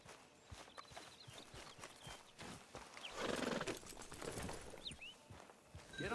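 Horse walking in the western game Red Dead Redemption 2, quiet steady hoof clip-clops with a whinny midway and soft ambient sounds around.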